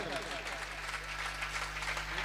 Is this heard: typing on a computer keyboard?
no